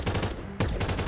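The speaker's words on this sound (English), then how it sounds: "Then an enemy sniper shot one of our soldiers." A sniper rifle fires at soldiers during a war battle in modded Minecraft. Rapid, evenly spaced gunshots ring out close and loud, with a brief gap before the firing resumes.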